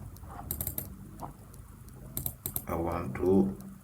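A computer keyboard clicks in a few quick bursts of keystrokes as a Command C copy shortcut is pressed during design work, up close and sharp, with a person talking between and over the taps.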